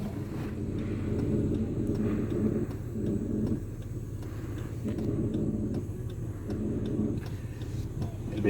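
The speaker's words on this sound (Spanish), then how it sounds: "El vehículo se está yendo para atrás." A vehicle in neutral rolls backward on a Guatemalan road after its brake is released, giving a steady low rumble with faint ticking and crunching from the tyres throughout, fairly quiet and with no voices.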